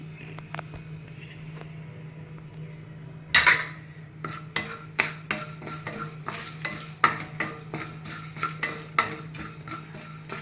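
Fresh curry leaves with tender stems frying in a pan for pumpkin rasam, a spoon scraping and stirring against the metal in a string of sharp clinks over a soft sizzle, close and alone.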